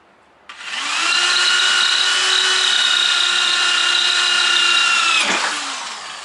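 A close, loud power drill spins up and holds a steady high whine for several seconds while drilling holes in a shed, the bit cooled with a water spray, then cuts off abruptly and winds down; nobody speaks.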